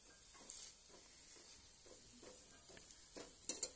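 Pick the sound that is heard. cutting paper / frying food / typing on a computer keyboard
frying food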